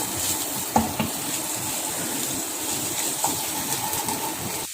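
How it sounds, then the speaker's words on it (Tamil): Food sautéed in a pan over a lowered flame, a steady soft sizzle with occasional light stirring clinks, close and continuous with no talk. "அடுப்பை குறைச்சி வச்சுட்டு இந்த மாதிரி வதக்கிக்கிட்டே இருங்க ஒரு 5 மினிட்ஸ் வந்து"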